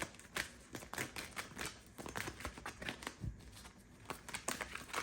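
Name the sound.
shuffling tarot cards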